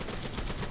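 Gunfire sprays through a wall in a competitive shooter match: a brief, rapid string of muffled automatic shots in quick rhythm, loud and alone.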